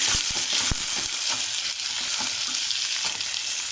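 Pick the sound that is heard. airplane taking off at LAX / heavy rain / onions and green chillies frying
onions and green chillies frying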